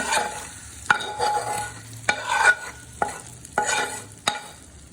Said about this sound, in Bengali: দিয়ে ভালো করে ডালের সাথে আমি এটাকে মিক্স করে দিচ্ছি